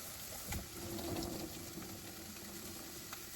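Water from a pot of cooked spaghetti pours off through a strainer as a steady, soft rushing hiss with faint splashes, close and fairly quiet, with no talking.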